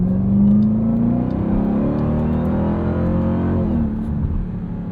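A 2023 Dodge Durango SRT Hellcat launches hard off the line, its engine note climbing loudly and steadily with a rising whine before easing slightly at the end, heard from inside the cabin with no voices.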